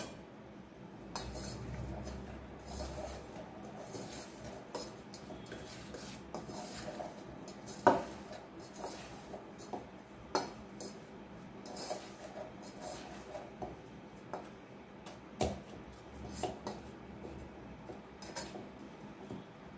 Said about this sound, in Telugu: ఇవన్నీ మనము కలిపేసుకుందాం.